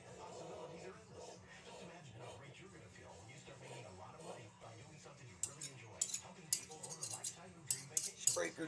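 Blunt butter knives scraping together over a plastic bottle, faint metallic scrapes and light clinks that get sharper and more frequent toward the end, heard close up under a low background murmur.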